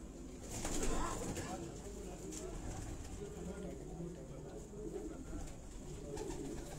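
Pigeons coo on a rooftop loft in Sialkot with repeated low, throaty calls and a soft flutter of wings, while people talk in the background.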